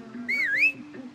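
A single short whistled phrase, a clear rising-and-falling two-note whistle, sounds in a Far Cry 6 game cutscene over a low background hum.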